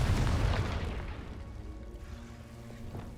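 A Confringo fire spell explodes in Hogwarts Legacy, a single deep boom that decays into a rumbling tail over a few seconds.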